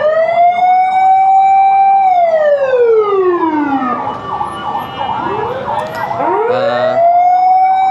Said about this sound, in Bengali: দুটো না প্রায় তিনটা অ্যাম্বুলেন্স অলরেডি আমার থেকে 50 হাতের মধ্যে 3টি অ্যাম্বুলেন্স